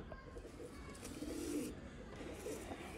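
Pigeons from a rare breeder pair coo softly and continuously, a low, faint murmur against quiet background noise with no talking.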